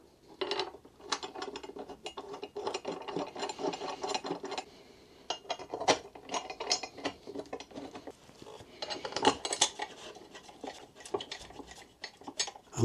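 A ratchet clicks in quick bursts as bolts are tightened on a pannier bracket for SHAD SH23 motorcycle panniers, with metallic clatter and short pauses between turns, close and alone.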